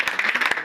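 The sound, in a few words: congregation applauding in church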